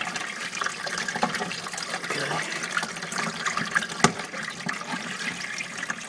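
Water rushes steadily through filter valves on a monitor lizard enclosure's plumbing, a continuous close hiss and gurgle with one brief sharp knock midway.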